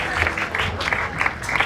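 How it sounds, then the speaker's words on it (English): An audience at a film producers' panel event claps in a brief burst, moderately close, with uneven bright clatter and a slight murmur underneath. "And applause."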